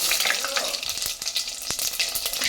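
Cumin, urad dal, mustard seeds and dried chillies fry in hot oil for a bottle gourd milk curry, giving a dense, steady sizzle with scattered sharp crackles and pops from the seeds, close and continuous throughout.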